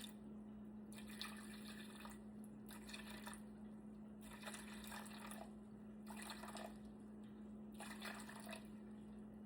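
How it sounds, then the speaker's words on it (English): Warm water is poured into a bowl for a cinnamon sugar sourdough dough, faint splashing bursts in several short pours over a steady low hum. "I'm gonna do 325 grams of warm water."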